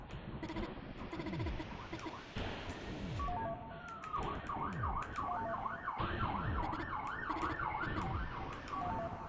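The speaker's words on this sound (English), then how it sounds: "God, you hear sirens in the background." Electronic sirens wail in a video game, a rising and falling cycle that repeats steadily over rhythmic game sounds and falling tones.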